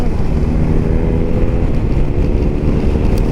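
A motorcycle engine and heavy wind rush blend into a loud, steady roar while riding, with no speech.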